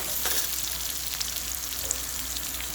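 Ingredients sauté in a pan with salt added, a soft continuous sizzle with a few faint scrapes, steady and fairly quiet throughout.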